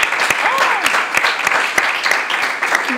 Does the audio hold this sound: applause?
yes